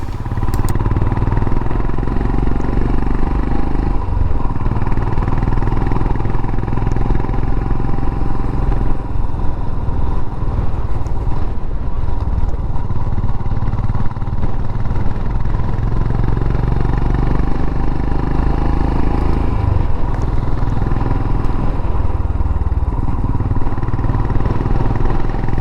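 A motorcycle climbs a steep S-bend out of a valley in the Yorkshire Wolds. Its engine drones loud and steady throughout, with wind rumble and a slight rise and fall in pitch as it works up the slope.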